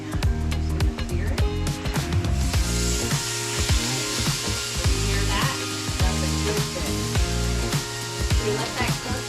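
Grouper fillet for tacos sizzles loudly on a hot grill, a dense continuous crackle and spit close up, with scattered sharp pops and knocks through it.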